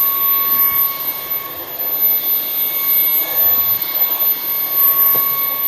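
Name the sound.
Bissell Cleanview XR Pet 300W cordless vacuum running at full power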